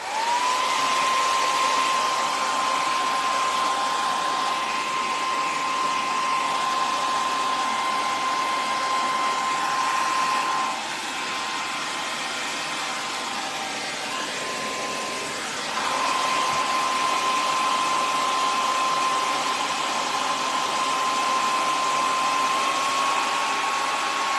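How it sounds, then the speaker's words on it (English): A hair dryer blows steadily on freshly painted sneakers with a constant high whine, loud and close, briefly dipping in pitch midway before resuming. "Let me give it a quick shot with the hairdryer."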